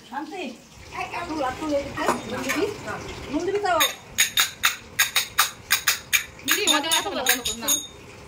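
Plates and bowls clink while rice is served for a home festive meal. Someone talks at first, then a quick run of sharp ceramic clinks and knocks follows close by.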